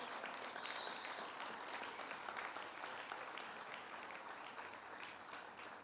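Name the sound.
audience applause at the Great New York State Fair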